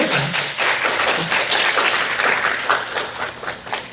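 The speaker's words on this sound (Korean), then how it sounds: "환영의 박수." A church congregation gives a short round of welcoming applause during a service: close, dense hand clapping for a few seconds that thins out toward the end.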